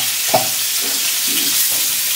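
Eggs coated with turmeric and salt fry in hot oil in a wok, giving a steady loud hiss and crackle with a couple of soft stirring knocks.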